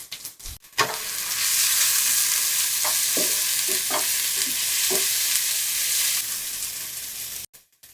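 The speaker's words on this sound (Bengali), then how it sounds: "মশলাটা থেকে তেল ছেড়ে না দেওয়া পর্যন্ত এগুলোকে আমি একটু ভুনে নিব" Beef masala with chilli powder, garam masala and tomato paste frying in hot oil: a loud, steady sizzle fills the clip, with a few scattered stirring scrapes and knocks partway through, close up, no voices.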